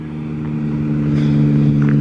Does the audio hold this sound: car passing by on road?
yes